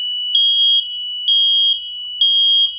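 A piercing high-pitched smoke alarm beeps three times in a steady rhythm, each tone held about half a second, loud and close.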